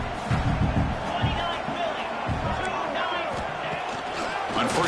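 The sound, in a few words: stadium crowd noise at a football game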